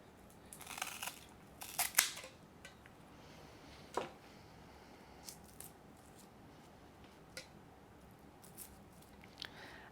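Scissors snipping through a philodendron stem between axillary buds, a few close crisp cuts clustered early, then faint scattered clicks and rustles over a quiet background, no talk.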